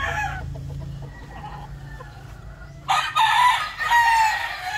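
A gamefowl brood stag crows loudly and close, a bright burst in the second half of the clip after softer clucking and low background noise, with no talking.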